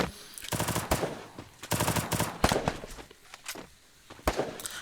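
Rapid bursts of automatic gunfire from a shooter video game's Clash Squad ranked match, loud and close, coming in several clustered volleys with short pauses between them.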